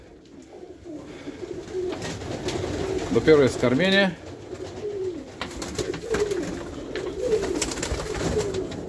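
Pigeons in a loft of a breeding setup, including Romanian and Budapest breeds, produce soft cooing and bird calls, with a louder burst of fluttering calls midway, under steady talk from a man nearby.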